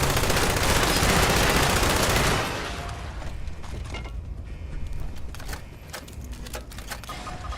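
Machine gun fire in the video game Fallout 76, a loud continuous burst for about two seconds followed by quieter rattling, clicking game sounds.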